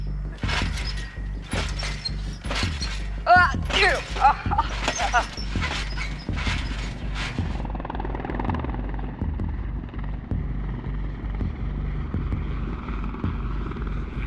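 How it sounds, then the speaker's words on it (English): A helicopter drones low and steady overhead, its rotor rumble continuous throughout, while a dog barks in a burst near the start. "I like seeing the helicopters fly over our heads."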